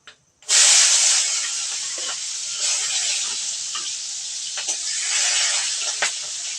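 Chopped onion tipped into hot oil with a bay leaf, bursting into a loud, steady sizzle that holds strongly to the end, with a few faint knocks underneath.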